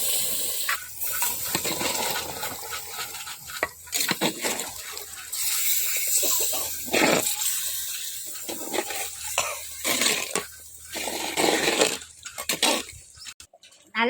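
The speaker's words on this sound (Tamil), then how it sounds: "ஒரு சொம்பு தண்ணி ஊற்றிக்கலாம்" Water from a pot poured into a simmering chicken curry in a village kitchen, heard as a sustained splashing gush with intermittent clatter and bursts, close and fairly loud.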